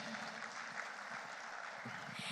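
Audience in an indoor hall at the SNI Award 2019 ceremony in Indonesia applauds, a soft, steady patter of many hands at a distance, fairly faint and even throughout.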